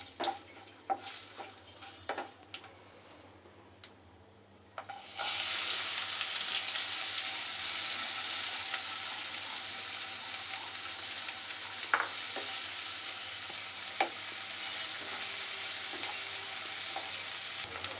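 A steady, loud sizzle of onions frying in a pan begins abruptly after a few quiet seconds and continues without letup, with occasional soft clinks.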